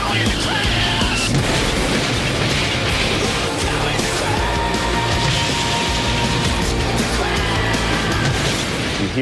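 NASCAR Sprint Cup car crash at Talladega during the 2010 AMP Energy Juice 500, a loud, continuous barrage of booming impacts and grinding crashes over roaring engines, dense and relentless across the whole stretch.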